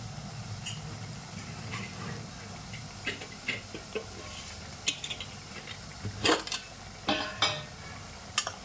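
A spoon stirs and scrapes ground masala spices roasting in a pan for matar nimona, with scattered clinks and scrapes that grow busier toward the end over a quiet background.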